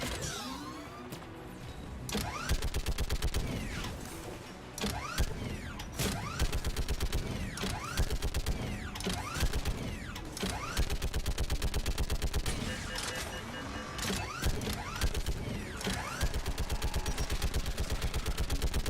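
Turret gunfire in the video game Mass Effect 3 rattles in long, rapid, continuous bursts, loud and dense, with mechanical clatter mixed in and voices under it.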